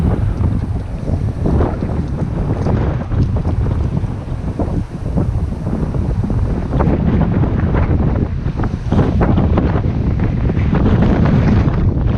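Strong, gusting wind roars and buffets the microphone continuously near a wildfire, with a loud rushing texture throughout and no voices.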